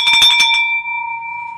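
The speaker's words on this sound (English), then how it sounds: "You're gonna go deaf ringing that bell all the time." A bell is struck a few quick times, then a clear metallic tone rings on loudly and slowly fades as it sustains alone.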